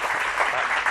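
Audience applause at a medical college and hospital event, a brief dense burst of many hands clapping, close and loud, with no pause.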